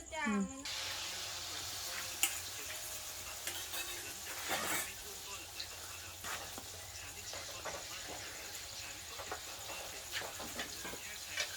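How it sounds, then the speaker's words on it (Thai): Steady sizzling and hissing from eggs stir-frying in a hot pan, with spatula scrapes and stirring clatter throughout, a voice speaking faintly underneath. "คั่วไข่แล้ว คั่วไปเลย คั่วไปเลย"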